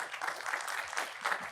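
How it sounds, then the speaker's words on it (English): Audience applause at a community collaboration event, steady clapping from a crowd filling the short stretch without voices. "So give him a round of applause."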